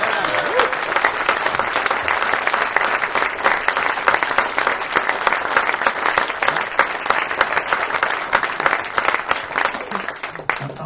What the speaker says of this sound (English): Can we have a big round of applause please for Ben and for Richard?